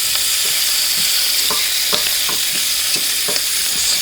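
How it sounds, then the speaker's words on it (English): A utensil scrapes browned bits off the bottom of a pan where pork chops are frying, giving short scratchy strokes over a steady loud sizzle. "Scrape all that good stuff on the bottom of the pan off on them"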